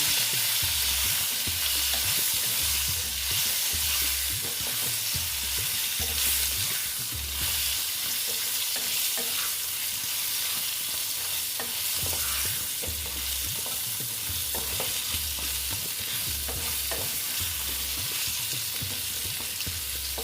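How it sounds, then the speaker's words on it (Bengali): Pointed gourd (potol) fries in a pan with turmeric: loud, continuous sizzling with repeated stirring scrapes throughout, no talking. "হলুদ দিয়ে পটলগুলো এবার ভেজে নিচ্ছি"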